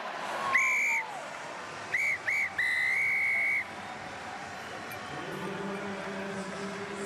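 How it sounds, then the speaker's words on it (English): A referee blows the final whistle at a Top 14 rugby match between Racing 92 and Toulon at the Stade Océan in Le Havre: one short shrill blast, two quick pips, then a long blast over crowd noise, followed by a low tone. "the final whistle's been blown here in Le Havre at the Stade Océan"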